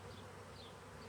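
Honeybees buzz around an open beehive during a hive inspection, a steady close-up drone with a low hum filling the short stretch, no one talking.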